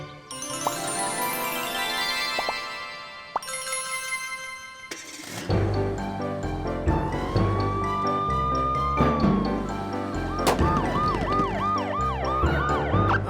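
Cartoon police car siren in a kids' animated vehicle adventure, a loud rising and falling wail that cycles repeatedly, mixed with music and sound effects, with no talking.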